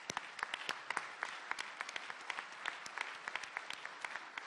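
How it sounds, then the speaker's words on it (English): A room full of people at a city environment committee meeting claps steadily, a dense patter of many hands with sharper individual claps standing out, moderately distant and with no voices over it. "one more round of applause for our awesome public service"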